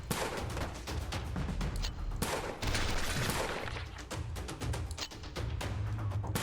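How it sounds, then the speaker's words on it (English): Revolver gunshots in the Sift Heads video game come as a dense volley of sharp reports and blasts, rapid and overlapping, loud and close, with no speech. "Good old revolver."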